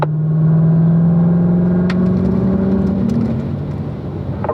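Race car engine droning steadily around a Spring Mountain track corner, a loud continuous hum that eases slightly as the driver brakes and turns, heard close from inside the car.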